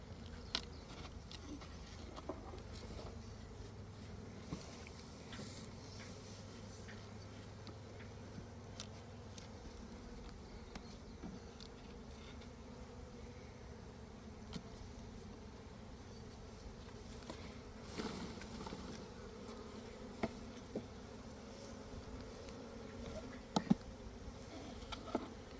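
Honey bees hum steadily inside an opened beehive with a top box added, a soft continuous drone that stays low and even throughout with faint clicks and handling noises.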